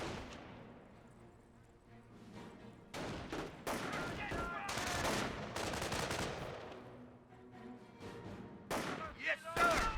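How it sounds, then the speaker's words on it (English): Gunfire in the World War II real-time strategy game Company of Heroes, with bursts of rifle and machine-gun fire crackling in dense volleys, interspersed with heavier blasts and quieter gaps, fairly faint overall. "We got ground troops firing on us."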